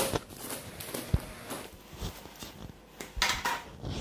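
A hot baking tray holding a swiss roll sponge is flipped over, giving soft metallic clanks and light knocks at close range, the loudest a single sharp clunk, with no talking.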